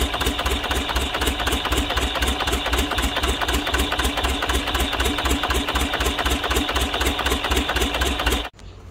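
A Yamaha 36 HP turbocharged outboard boat engine runs steadily at about 3050 rpm, a loud, even, rapid mechanical drone that continues without a break until it cuts off near the end.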